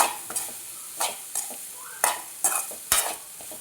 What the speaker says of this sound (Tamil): சேர்த்து எல்லாத்தையும் ஒன்று கூட ஒரு கிண்டி கொடுத்துட்டு